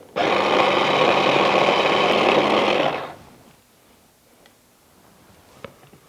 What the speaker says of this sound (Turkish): Robotta tamamen krem hale gelene kadar çekiyorum